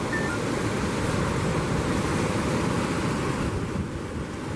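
Ocean waves wash in steadily at St Lucia Estuary, a continuous broad roar of surf mixed with wind buffeting the microphone, with no talking over it.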